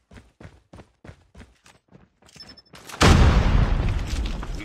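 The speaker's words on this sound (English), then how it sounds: "Grenade out!" A grenade detonating in Call of Duty, preceded by a run of regular footsteps, then a sudden loud close blast with a long rumbling decay.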